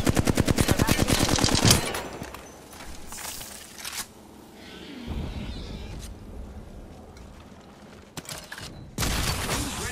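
Gunfire in Apex Legends: a loud, rapid automatic burst opens, followed by quieter scattered shots and movement, then another heavy volley near the end.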